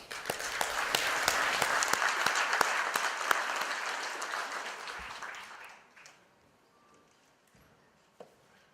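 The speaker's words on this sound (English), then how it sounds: "give them a big round of applause" Audience applause following conference presentations at a ports and harbors event in Sydney, a sustained roomful of clapping that fades out after about six seconds, leaving near quiet with one late clap.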